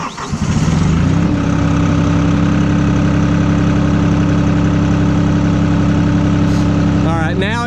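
Vermeer CTX 100 mini skid steer engine cranking and firing up, then settling into a loud, steady diesel idle with a low rumbling drone; a brief higher whine near the end.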